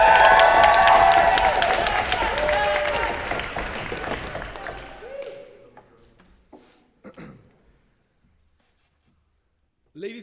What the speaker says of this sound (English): waive them and be met by a rapturous round of applause